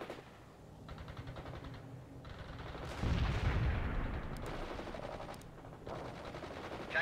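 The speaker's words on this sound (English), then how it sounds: "Molotov firing mortars." A mortar barrage in the video game World in Conflict, with repeated booming impacts and gunfire under a roaring wash of battle noise, one heavy blast standing out midway.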